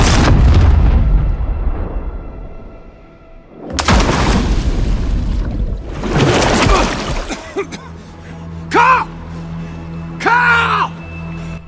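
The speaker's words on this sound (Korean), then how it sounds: "보트가 불에 타는 것을 막기 위해 어떻게든 불을 꺼보려던 케일은 결국 폭발에 휩쓸립니다" A boat blows up in the shark video game Maneater: a huge close boom with splashing debris, then a second heavy blast, followed by lighter bursts and short bright pops over a low rumble.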